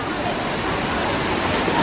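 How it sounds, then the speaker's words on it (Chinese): Guanyin Waterfall in Zhuqi, Chiayi, Taiwan, a steady, close, full roar of falling water that stays loud and unbroken throughout. "来喽，来喽，观音瀑布"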